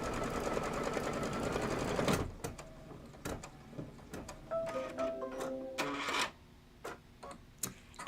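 An embroidery machine stitches a flower design for a quilted table topper, a dense rapid mechanical whirr at first, then stopping to sparse clicks, short motor tones and knocks as it repositions.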